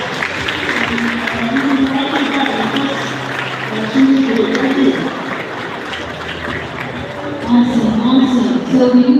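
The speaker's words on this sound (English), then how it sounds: "Please give her a warm round of applause." A crowd applauds a girl at a head-shaving event, steady clapping of moderate loudness mixed with cheers, with voices speaking over it throughout.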